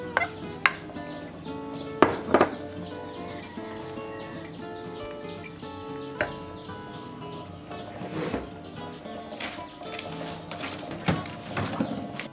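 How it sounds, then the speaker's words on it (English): A spoon stirs termite mushroom rice porridge in a pot, giving faint scraping and a few sharp clinks against the pot at irregular intervals over a quiet kitchen background. "And then stir it."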